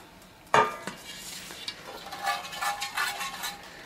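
Olive oil is spread around baking pans in a kitchen, with a sharp metal clank followed by scraping and soft rubbing sounds, and light clinks of the pans continuing at close range.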